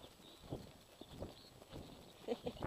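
A horse's hooves beat at a trot, soft and fairly distant, in an irregular run of muffled thuds over a quiet outdoor background.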